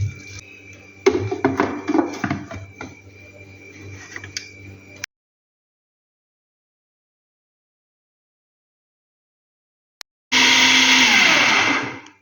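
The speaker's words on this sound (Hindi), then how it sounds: "फिर दोबारा चॉपर में डाल के वेजिटेबल के साथ कीमे को मिक्स कर लेंगे" An electric food chopper whirs while mixing chicken mince with vegetables: a rough, clattering motor run for about five seconds, then silence, then a second loud, steady burst near the end.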